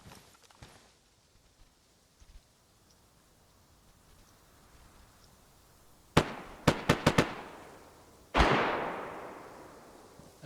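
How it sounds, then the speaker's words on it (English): After a quiet stretch in the video game DayZ on PS5, Livonia map, a quick burst of several sharp bangs rings out, followed by a louder blast that fades away. "That sounds like pretty heavy gunfire."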